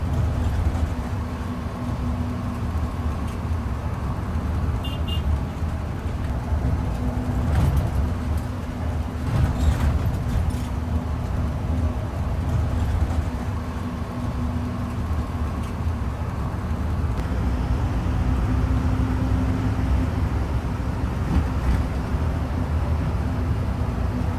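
A Damri intercity bus speeding along an emptying stretch of the Jakarta–Solo road past Tambun, heard from inside as a steady low engine drone and road rumble with occasional rattles.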